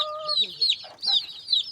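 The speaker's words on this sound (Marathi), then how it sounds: "हे कोंबडीच्या जवळपास 17 पिल्ले आहेत." Hen with about seventeen 13-day-old chicks: high, sharp chick peeps repeating in quick bursts over softer low clucks from the hen, close and fairly quiet.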